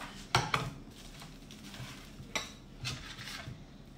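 A knife slices through a homemade sushi maki roll on a board. Two close, sharp knocks come first, then a few softer taps and scrapes over a quiet room, with no talking.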